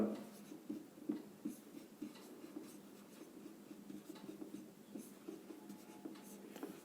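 A pen writes a maths answer on paper in quick, soft scratching strokes with brief pauses. The sound is faint and close in a quiet room.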